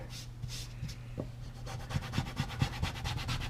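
The fabric side of a squeegee rubs across a vinyl decal on a rear side 4Runner window, soft scraping strokes building into a steady series of quick, rhythmic swipes, quiet and close.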